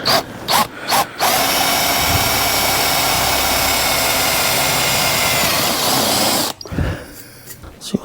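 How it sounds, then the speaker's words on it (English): A power drill with a quarter-inch center drill whines steadily and loudly for several seconds, starting and stopping abruptly, with brief bursts of noise before and after. "So I'll drill my 3/4 inch holes"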